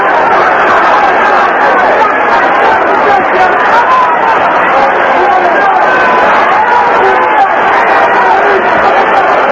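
Dense, steady roar of an arena crowd at the 1982 Aaron Pryor vs Alexis Arguello boxing bout, a loud, unbroken wall of massed voices and hubbub that carries through the whole stretch without letup.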